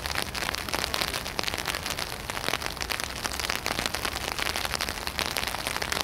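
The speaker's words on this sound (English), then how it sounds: "I'm officially sick of the rain." Dense, steady hiss of rain falling and pattering on surfaces in a garden, close and continuous with constant crackling drops and no voices.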